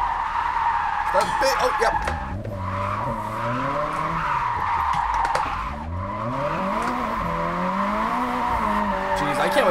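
Tires squeal continuously as a JDM car drifts at full angle in an Unreal Engine free-roam driving game, engine note rising and falling through the slide, with someone talking excitedly over it.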